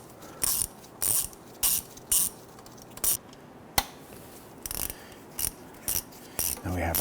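Ratchet clicking in short bursts while bolts are snugged down on the transfer case shift motor of a 2006-2010 Hummer H3, about a dozen close, crisp ratcheting strokes separated by brief pauses.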